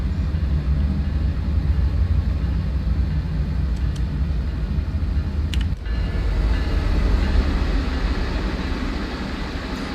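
Baby Bullet commuter train from Train Sim World 2020 running steadily, a continuous loud low rumble of rails and motors with a brief clank midway, no voices.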